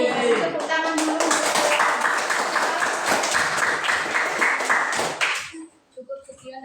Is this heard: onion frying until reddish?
no